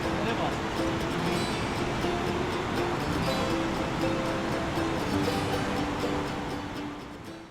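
Mountain stream in the Anakar Valley near Kalam, Swat, rushing over stones in steady broadband flow, loud and close, with some talk mixed in under the water.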